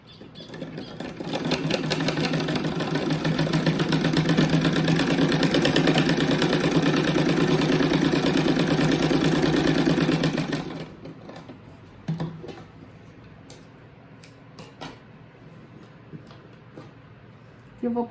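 A sewing machine runs steadily for about nine seconds, stitching double fabric seams on a rabbit-shaped placemat, then stops, and a few short clicks and handling noises follow.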